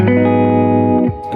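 Chords on an electric guitar in the middle pickup position ring through a Peavey Classic 30 amp with a slightly driven tone, one sustained strum held loud and close before it cuts off near the end.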